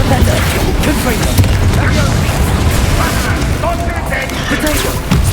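Confringo fire blast spell in the Hogwarts Legacy video game, dense booming bursts and crackling pops throughout amid continuous loud combat noise, with a voice talking over it.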